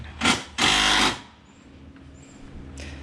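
A Milwaukee power tool, likely an impact driver, runs a nut on during an engine swap on a 2001 Pontiac Firebird Trans Am, giving two loud close bursts, a short one and then a longer one of about half a second.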